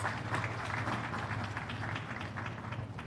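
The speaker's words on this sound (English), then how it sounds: "Another round of applause for him, please." Audience applause at a business forum in Ghana, faint, steady clapping from a hall, continuous and distant throughout.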